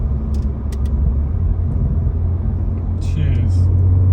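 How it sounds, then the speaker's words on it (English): A BMW F30 sedan with a B58 engine rumbles under steady, close cabin drone while driving, its engine revving and settling through downshifts, with a few faint clicks and brief sharp noises over it. "it gives it like a little blip too, like a downshift or upshift blip"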